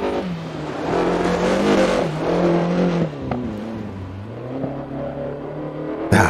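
A BMW E30 M3 Evo rally car in DiRT Rally 2.0, with a damaged engine that isn't running quite smoothly, drones and revs loudly and steadily up close, with pitch shifts and a brief sharp change near the end.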